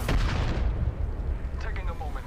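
Heavy, continuous gunfire and booming impacts in the Apex Legends battle royale game, loud and dense throughout, with a voice speaking over the shooting.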